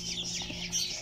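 Newly hatched chicks in a cardboard box give faint, high chirps and peeps, soft and close, over a low steady hum.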